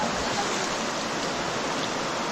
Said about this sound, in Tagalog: Naliligo ta sa ilog.